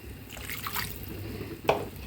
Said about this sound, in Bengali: আর একটু পানি দিই।